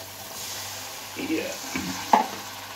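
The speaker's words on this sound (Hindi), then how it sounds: "अब इसमें डालेंगे थोड़ा सा पानी" Water poured into chicken pota kaleji frying in a pan, dhaba style, gives a soft steady sizzle that swells into a few sharper bursts of hissing and a clink near the end, fairly quiet and close.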